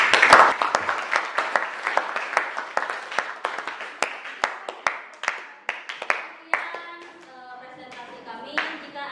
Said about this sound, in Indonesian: kita tepuk tangan buat